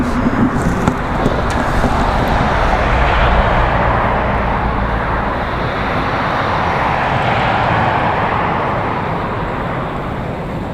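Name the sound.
airplane taking off at Raleigh Durham airport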